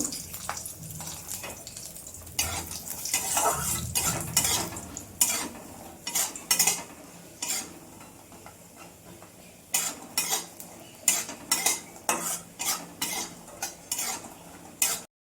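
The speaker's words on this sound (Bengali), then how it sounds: "বড়িগুলো ভেজে নেব।" Sun-dried lentil dumplings fry in fresh oil in a kadai, with a soft background sizzle punctuated by repeated sharp clinks and scrapes of a metal spatula against the wok.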